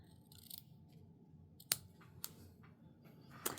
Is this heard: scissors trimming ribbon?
yes